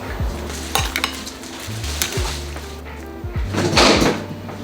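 Steak salad with lemon being mixed in a bowl, with clinking utensils, scraping and light clattering knocks, close by and without talk.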